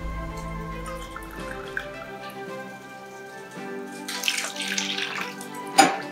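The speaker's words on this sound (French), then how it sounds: "Et on ajoute une tasse de l'eau chaude." A cup of hot water is poured into a bowl of red jello powder, making a steady trickling, splashing stream with a few drips, close by and with no talking.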